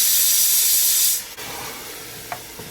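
Chicken pieces dropped into a hot pan of golden fried onions for Chettinad chicken curry: a loud burst of hissing for about a second, which quickly dies to a quieter sizzle with a couple of faint clinks.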